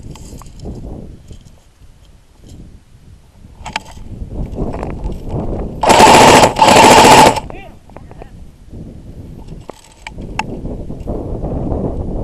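Airsoft guns fire rapid bursts of cover fire at an outdoor skirmish game, two loud dense volleys close by in the middle, with quieter shots and people talking around them.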